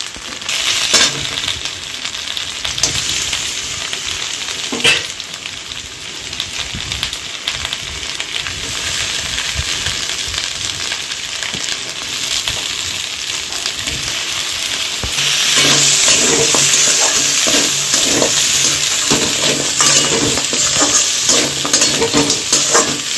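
Boiled mutton, cooked earlier with turmeric and salt, fries with spices in a pan for biryani, producing a loud, continuous sizzle and stirring scrapes that grow stronger and denser partway through.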